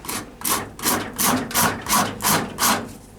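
A fine-toothed rasp smooths and rounds a hickory bow, making about seven even, rhythmic scraping strokes, close and clear with no talking.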